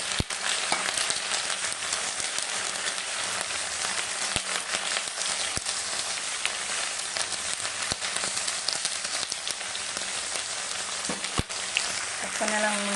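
Shrimp frying in a hot pan with onion leaves, a dense, close, continuous sizzle and crackle with occasional sharp pops and faint stirring.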